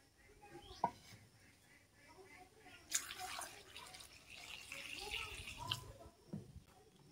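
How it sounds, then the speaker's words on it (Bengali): Fresh green chillies being washed in water, with faint splashing, drips and a brief burst of running water in a quiet room, a few sharp knocks scattered between. "লঙ্কাগুলো ধুয়ে নেব।"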